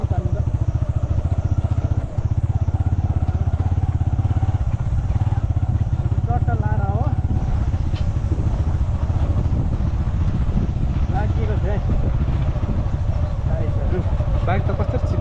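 A motorcycle ridden along a road gives a loud, continuous engine drone with wind rumble, and a person talks over it.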